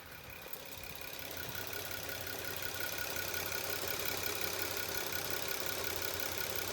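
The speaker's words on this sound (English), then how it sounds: "a V6 engine is running, is going to make some noise" V6 car engine idling with a steady mid-pitched hum and faint mechanical rattle and ticking, heard up close at the front of the car, continuous and even throughout with no voices.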